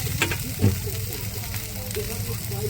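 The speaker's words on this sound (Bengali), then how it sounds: "আমি ভেজে রাখা ভেন্ডিটা দিয়ে দিচ্ছি।" Fried okra is added to a sizzling spice masala and stirred, producing a constant close sizzle with soft stirring scrapes and a small bump as the okra goes in.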